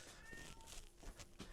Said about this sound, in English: Oh, is that a cat? That is a cat.